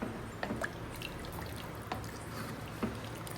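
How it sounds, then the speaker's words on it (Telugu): Water pours and drips in a few short splashes from a small pot into a mutton head curry, fairly quiet against a steady low background hum. "అలా పడుతుంది వాటర్, ఇలా పడుతుంది."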